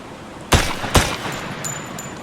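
Two quick gunshots from a Unity video game demo fire at a cube, close and punchy about half a second apart, followed by faint high electronic tones over a low background hiss.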